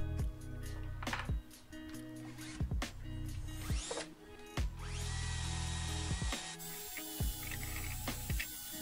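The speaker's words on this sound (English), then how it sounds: "I decided to use some wire brushes and a few wire brush attachments on my drill to clean them up" A power drill fitted with wire brush attachments scrubs rust off old dumbbell and barbell weight plates, its motor whirring in steady bursts with gritty scraping and short pauses between passes.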